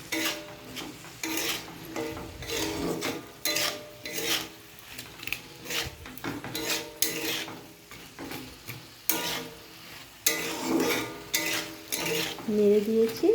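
A spatula scrapes and tosses potatoes and onions frying with dried chillies, salt and turmeric in hot oil in a wok, giving rhythmic, close scraping strokes over a low sizzle.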